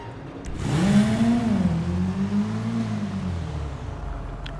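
A motorbike engine in GTA Online revving up and holding a loud, steady drone that rises then dips in pitch, close and continuous, with no talk over it.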